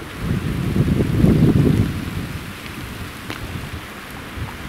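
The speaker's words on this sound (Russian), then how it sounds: "Снег с дождем." Sleet, snow mixed with rain, falls steadily during a spring mountain hike, giving a dense continuous patter on surfaces with a low rumbling swell early on, heard outdoors with no voices.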